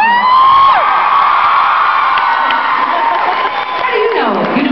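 A concert audience at a show cheers, whoops and applauds loudly and continuously, with high shrill screams carrying through the crowd noise.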